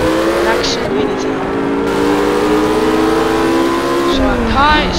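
A race car engine in the racing game Project CARS drones with shifting revs and gear changes, joined by tire noise, while a person talks over it throughout.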